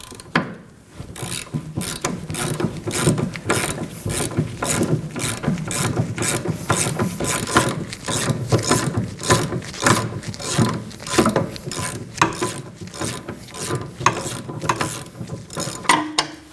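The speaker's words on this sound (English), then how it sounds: "Using a 19mm socket, go ahead and take it out." A ratchet wrench with a 19mm socket backs out a rear upper rearward control arm bolt on a 2011-2016 Kia Optima, giving a steady run of rapid, close pawl clicks in repeated bursts with no talking.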